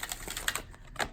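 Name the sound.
shuffling a deck of oracle cards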